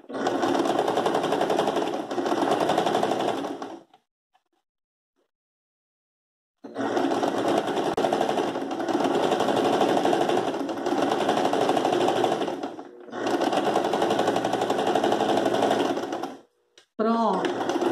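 A sewing machine stitches a round tablecloth in long, loud, whirring runs, stopping once for a few seconds of near silence before starting again, then ending with a short burst.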